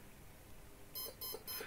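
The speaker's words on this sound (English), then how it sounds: "Those 3 little beeps are indicating the cell count, and the final beep is indicating that it's initialized correctly." Drone ESC initializing its motor, a short series of clear electronic beeps starting about a second in: three brief tones in a steady rhythm at moderate volume, with no talking.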